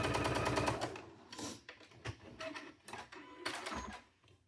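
A sewing machine stitches fabric pieces for the forehead of a cow costume in loud rapid bursts of mechanical clatter, starting, stopping and running again in short runs.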